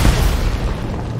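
A loud, close meteorite impact explosion in Green Lantern: Rise of the Manhunters, a heavy rumbling boom that hits at once and slowly fades over about a second.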